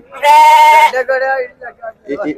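A ram bleats loudly and close at the Hiriyur sheep market, a long wavering cry followed by shorter calls, with bits of voices and market noise at the end.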